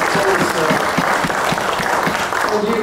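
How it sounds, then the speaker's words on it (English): Audience applause at a club talk, continuous loud clapping from a crowd lasting about three seconds, with voices faintly underneath. "Huge round of applause for Dr. Carmel Singh"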